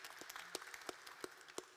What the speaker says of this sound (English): Yeah, round of applause for that.